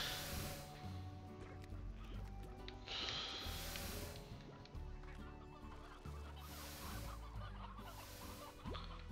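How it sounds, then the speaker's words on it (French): Chickens in the video game Slime Rancher cluck and squawk continuously over a dense bed of game music and ambient sound, the bird calls overlapping at a moderate, steady level. "Y en a de moins en moins de poulets."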